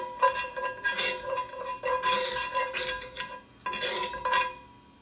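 A utensil stirs a flour mixture around the bottom of a skillet while making baked steak, giving close, scraping strokes in three bursts separated by brief pauses.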